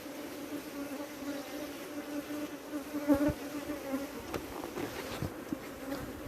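Honey bees buzz steadily at a hive entrance in a bee yard on Trinidad, a continuous close drone with a few louder passes of individual bees flying by.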